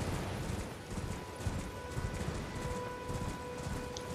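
Horse hooves clip-clop in a fantasy video game, a steady rhythmic patter of footfalls at moderate distance over soft ambient game sound, with no talk.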